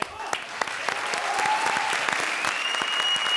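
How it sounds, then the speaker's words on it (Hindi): A studio audience at a comedy show claps in steady, dense applause that carries from start to finish with a few sharper individual claps standing out. "जोरदार तालियां हमारे लिए"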